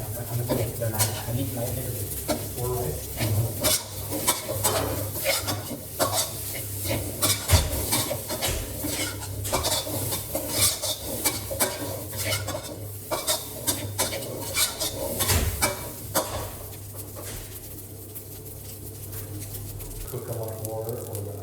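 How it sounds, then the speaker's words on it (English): Thai chicken fried rice with browned egg being stirred in a hot pan, steady scraping and sizzling with repeated sharp clinks of a utensil against the metal, loud and close throughout. "Keep stirring so the pan remains clean and all of the browned egg is mixed in."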